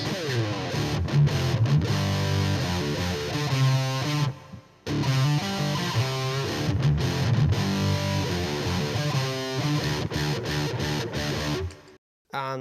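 Heavily distorted metal guitar played through a 1977 Fender Vibro Champ amp with a DS-1 distortion pedal, a dense, saturated riff with chugging low notes that runs loud and continuous, with two brief stops.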